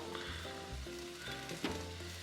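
A pot of pasta fagioli on the stove gives off a quiet, steady bubbling sizzle with a few small clinks, no talking over it.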